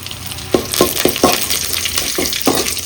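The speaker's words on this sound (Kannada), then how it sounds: "ಈ ಥರ ಒಣಗಿದ ಮೆಣಸು ಹಾಕಿ ಆಮೇಲೆ ಸ್ವಲ್ಪ ಈರುಳ್ಳಿ ಹಾಕಿ ಫ್ರೈ ಮಾಡಿಕೊಳ್ಬೇಕು" Dried red chillies and onion sizzle in a hot pan, a close, steady crackling hiss broken by several sharp scraping stirs of a spatula at irregular intervals, no talking.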